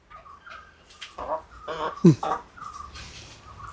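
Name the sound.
chickens clucking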